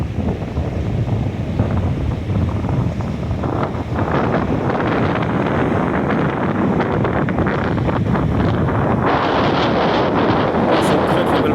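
Strong wind gusting across a beach at Saint-Jean-de-Monts on the French Atlantic coast, a steady loud rumble buffeting the microphone with surf mixed in, rising slightly near the end.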